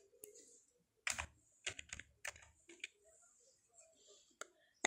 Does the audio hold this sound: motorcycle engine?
no